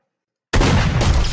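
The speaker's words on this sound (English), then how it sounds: "you can use the railgun and the shotgun kind of like this, where you shoot that" Railgun and shotgun fire in a video game: a sudden, loud, dense burst of weapon noise that keeps roaring, with a second sharp hit half a second later and no talking over it.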